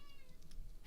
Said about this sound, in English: My cat's talking to me.